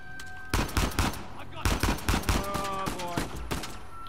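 Rapid automatic gunfire in the video game Uncharted 4, loud bursts of shots in quick clusters with short gaps between volleys, ringing tones and game sound underneath.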